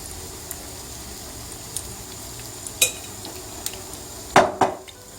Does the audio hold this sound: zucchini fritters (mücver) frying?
yes